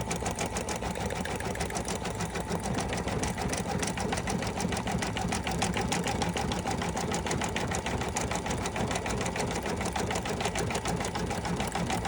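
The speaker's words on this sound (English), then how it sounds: "This is 2 minutes just to stitch out the satin." An embroidery sewing machine stitches out a satin section in a fast, steady, loud mechanical clatter that runs evenly and unbroken from start to finish.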